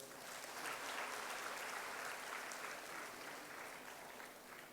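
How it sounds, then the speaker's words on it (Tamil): An audience at a scholarship award ceremony claps in a faint, distant, even patter that holds steady, with a low electrical hum underneath. "இங்கே இருக்கிற பெண்களெல்லாம் அதற்காக கைத்தட்ட வேண்டும்"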